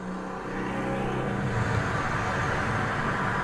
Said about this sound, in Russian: Как будто стоим возле автотрассы.